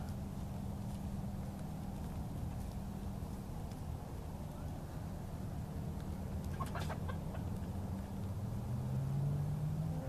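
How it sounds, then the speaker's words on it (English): White Leghorn chickens graze in the evening, their soft, faint clucks nearly buried under a steady low hum and rumble in the background. "I'll just end it with some peaceful chicken grazing."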